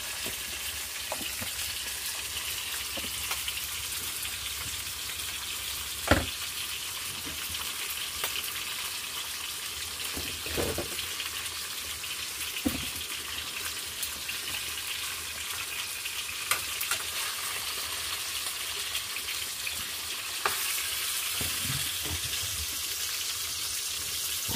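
Hilsa fish frying in hot oil in a home kitchen, a steady close sizzle and crackle that runs throughout, with occasional sharp pops and clinks of a utensil.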